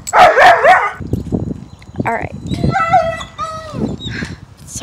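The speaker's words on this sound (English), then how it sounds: "the neighbor's dog is yapping" A neighbor's dog barks and yaps sharply and close at hand in several quick, high-pitched bursts, interspersed with whimpers, while people talk over it.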